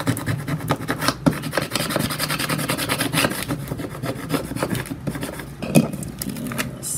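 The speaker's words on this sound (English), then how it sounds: "Squeegee it on." Joann's permanent vinyl is squeegeed onto a surface in quick repeated scraping strokes, close and fairly loud, with sharper rubbing bursts along the way and no talk.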